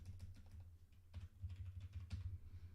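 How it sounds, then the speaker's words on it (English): Someone types on a computer keyboard in rapid bursts of soft clicks, faint and close, over a low steady hum, with no talk. "that's going to adjust as I'm typing this."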